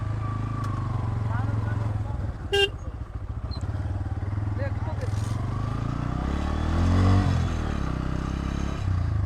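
A motorcycle rides along the bank of the Madhumati river, its engine a steady close drone with a brief rattle and a rising rev near the end, while voices talk over it.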